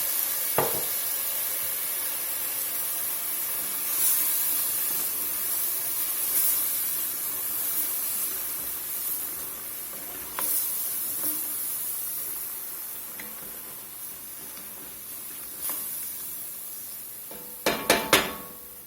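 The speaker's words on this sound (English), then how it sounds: "We're going to deglaze the pot. Half cup of red wine." Red wine hits a hot beef stew pot to deglaze it, giving a long, even sizzling hiss of steam, close and steady, with a few light clinks of a utensil near the end.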